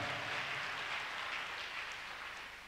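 A church congregation applauds at a Tuesday miracle service during a testimony, a dense, steady wash of clapping that stays loud throughout and tapers slightly at the end.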